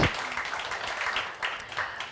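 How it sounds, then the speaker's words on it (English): Audience applause at a live startup demo day event in Kyiv, moderate clapping from a crowd, fairly quiet and somewhat distant, sustained for about two seconds. "Please, applause."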